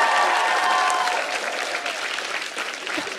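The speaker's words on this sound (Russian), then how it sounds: "Эти аплодисменты подбадривают вас." A studio audience at a comedy show claps steadily in dense applause, loud at first and then easing slightly over a few seconds.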